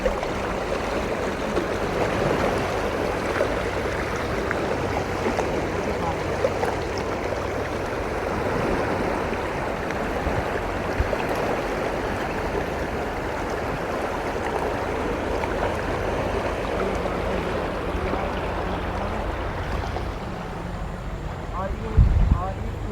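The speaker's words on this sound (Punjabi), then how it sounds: "ਬੜੀ ਤੇਜ਼ ਰਫ਼ਤਾਰ ਹੈ ਜੀ ਪਾਣੀ ਦੀ" A fast-flowing river rushes steadily at an outdoor gathering spot, a continuous broad roar with wind buffeting the microphone throughout, while people talk faintly in the background.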